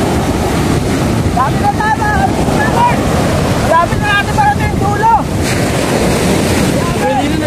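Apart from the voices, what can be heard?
sea waves at Soebod bay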